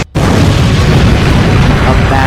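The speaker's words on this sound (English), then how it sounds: "A massive purple explosion covers a massive part of the spaceship" A massive explosion engulfs part of a spaceship in a narrated creepypasta, hitting after a split second of silence as a loud, dense roar that holds steady to the end.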